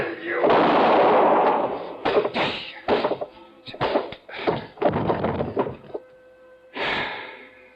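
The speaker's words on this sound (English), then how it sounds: "I knew the sound of the gunshot would bring the others back to the cabin." A gunshot blast in a classic detective radio drama booms loudly near the start, followed by a string of sharp thuds, scuffles and knocks, with a final burst at the end.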